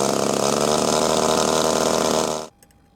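A glow engine on an RC P-51 Mustang model plane, muffler loose with a screw missing, screams loudly and steadily at high revs for about two and a half seconds, then cuts off abruptly into near silence.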